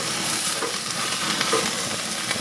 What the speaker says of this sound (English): now I'm going to go and put some of these in and get them in the fire